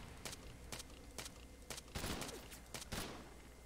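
Enemy gunfire in Halo 3: ODST rattles in quick bursts, a series of sharp repeated shots with a heavier cluster near the end, faint and somewhat distant.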